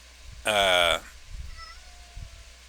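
A pet cat lets out a single loud, whining meow lasting about half a second, followed by quiet room tone with faint background sounds.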